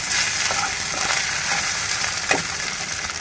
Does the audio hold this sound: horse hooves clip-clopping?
no